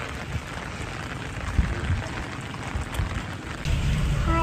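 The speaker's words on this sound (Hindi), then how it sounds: "उधर साइड धूप है और यहाँ हो रही है बारिश" Rain falls steadily in a hillside mountain village, a continuous even patter that stays close and fairly loud and swells slightly toward the end, with no talking.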